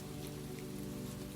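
Gentle rain falling in a steady soft patter, a continuous even wash of drops with no voices.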